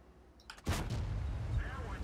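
A tank shell ricochets off the armor of a Ru 251 light tank in the World of Tanks video game: one sharp, loud metallic impact, followed by a sustained rumbling game soundscape.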